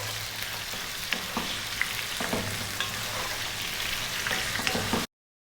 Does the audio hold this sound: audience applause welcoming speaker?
no